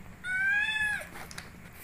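A single drawn-out cat meow, clear and fairly close, rising then falling, followed by quiet background.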